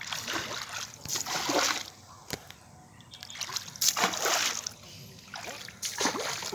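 A small boat is rowed through flood water in Jorhat, with irregular splashes and sloshing strokes in close bursts, while people talk nearby.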